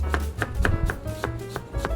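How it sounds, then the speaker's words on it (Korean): A kitchen knife chops green onion on a cutting board in quick, steady strokes, each tap sharp and close, about eight cuts in two seconds with no talking. "그리고 칼질합니다. 대파 한 20g 정도 돼요."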